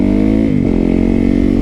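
A motorcycle engine runs loud and close, its steady harmonic drone shifting pitch midway as the rider changes throttle, with no talk over it.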